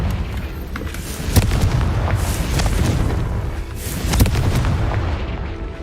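Confringo blasting spells explode in the Hogwarts Legacy video game, each cast ending in a booming burst, two prominent blasts over a steady rumbling game background.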